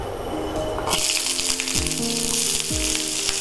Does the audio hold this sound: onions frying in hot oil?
yes